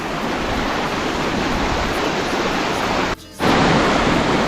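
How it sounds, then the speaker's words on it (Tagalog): Strong torrent of water rushing down from Mayon Volcano, a loud, steady broadband roar close by that breaks off briefly near the end and then surges back just as loud. "Grabe ang tubig."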